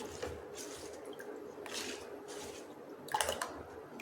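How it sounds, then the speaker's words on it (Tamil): Soaked rava dosa batter is stirred with added water, giving soft, wet sloshing and squishing strokes in a few separate bursts, close and quiet, with no speech. "மாவை நல்லா தண்ணி சேர்த்து நல்லா தண்ணியை கலக்கிக்குவோம்"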